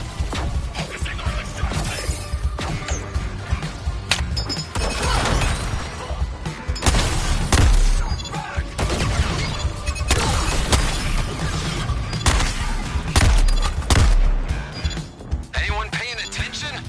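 A tank in Suicide Squad: Kill the Justice League fires its energy weapon in a dense, roaring blast that crashes and shatters repeatedly, with loud bursts recurring over a constant wash of combat noise.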